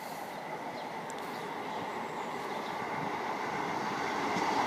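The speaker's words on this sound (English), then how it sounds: "There's a train there." A passenger train, a Norwich to Liverpool Lime Street service, passes a level crossing at Woodsmoor, Greater Manchester, with a steady loud rumble and rail noise that builds slightly as it goes by.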